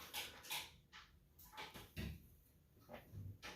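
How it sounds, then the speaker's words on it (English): Irregular crinkling and crunching bursts of thin plastic being chewed and squeezed close by, with short pauses between bites. "My dog got a water bottle."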